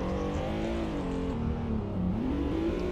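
A new car driven by a learner with a manual gearbox produces a continuous engine drone whose pitch wavers slightly, heard from inside the cabin, steady and fairly loud with no talk.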